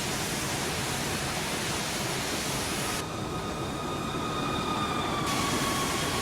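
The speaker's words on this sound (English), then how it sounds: "Although it sounds like we're still blowing the valves." A simulated steam locomotive hisses steadily as its valves blow off, set in Train Simulator 2016 on the Cologne–Koblenz route with a DR BR86 engine. A broad, even rush of noise continues throughout, with faint whistle-like tones in the middle.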